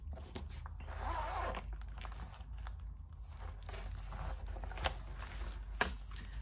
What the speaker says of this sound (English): And it's got a cute little zipper pull.